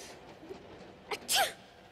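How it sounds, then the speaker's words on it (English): A girl, cold and riding in a freight train car, gives one close sneeze preceded by a brief sharp intake of breath, then quiet. "You wouldn't be sneezing if you weren't cold."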